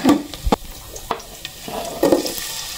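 Chopped onions hit a hot pan for lugaw, Filipino rice porridge, with a sizzling hiss and a few sharp scrapes and clanks of a spoon stirring against the pan, close and loud.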